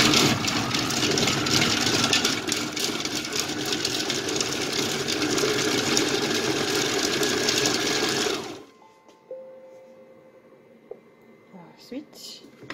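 An electric food chopper's motor runs with a loud, steady whirring buzz for about eight seconds, then cuts off, leaving near silence with a few faint clicks.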